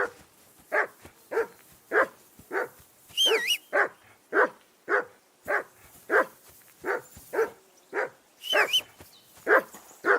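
A dog in the video game Kingdom Come Deliverance 2 barks loudly and repeatedly at a steady pace, close by, with a couple of whiny yips mixed in between the barks.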